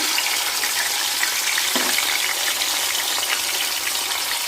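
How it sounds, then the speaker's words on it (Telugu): Tomato pieces fry in hot oil in a pan, giving a steady, close hiss of sizzling with small crackles throughout and no voices. "ఆయిల్లోని మనం ఈ టమాటా ముక్కలు వేసేసుకోవాలి"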